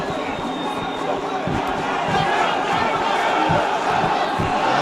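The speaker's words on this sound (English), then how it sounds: "listen to the crowd" A crowd at an MMA grappling fight in Krasnodar, Russia, roars and cheers continuously, a dense wash of voices with a few louder shouts rising out of it.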